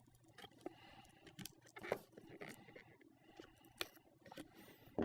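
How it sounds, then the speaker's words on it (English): A hobby knife slices along the glued, taped edges of a cardboard box, giving faint scratchy cuts and crinkles that come in short, uneven bursts, heard close up against a quiet background. "take that X-Acto knife, and just free up all the sides"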